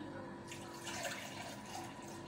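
Water poured into a bowl for Jamaican toto batter, a steady close splashing stream that starts about half a second in and runs on under a faint background hum.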